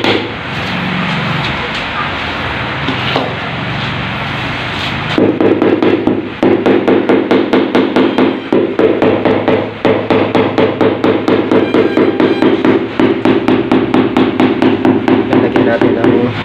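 Tiles are pounded into adhesive during tile laying, with steady, rapid, loud knocks from a mallet close by, following a quieter stretch of scraping and shuffling with some talk in the background.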